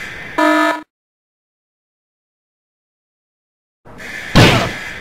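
Alarm going off in the Henry Stickmin game: a short loud buzzer blast, a stretch of total silence, then a harsher burst with a bright, noisy alarm tone.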